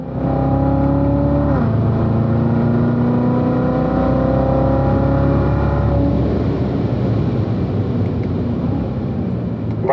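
Corvette accelerating out of a corner on a racetrack during driving school, a loud sustained engine note with rising and shifting harmonics, steady throughout with no talk.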